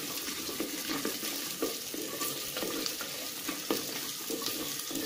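Garlic and another ingredient sauté in groundnut oil in a clay pot over a village stove, a steady close sizzle broken by occasional stirring scrapes.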